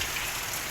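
Heavy rain falling outdoors, a dense continuous hiss of drops striking surfaces, steady and fairly close with no voices.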